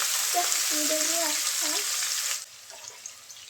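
About a cup of chopped onion dropped into hot oil, sizzling and frying loudly and close for a couple of seconds, then dropping to a softer crackle, with a voice speaking over the hiss.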